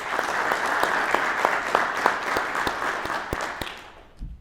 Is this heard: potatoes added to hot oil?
no